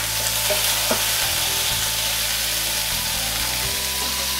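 Luffa stir-frying in a hot wok after scallion, ginger and garlic are fried until fragrant, giving a steady, loud sizzle with scraping stirs, no talk.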